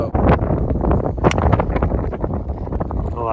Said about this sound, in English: Yeah, that wind is killing me